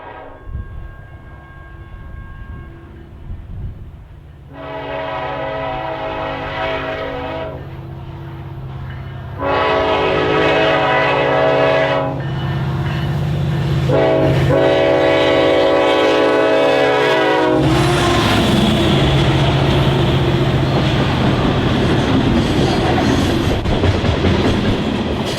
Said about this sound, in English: the daily Detroit to Decatur, Illinois Manifest Train 121 was making its way west